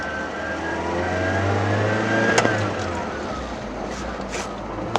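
A Mazda Miata with a newly installed clutch pulls away in first gear, its engine droning and rising steadily from inside the cabin, with a few sharp clicks and knocks along the way.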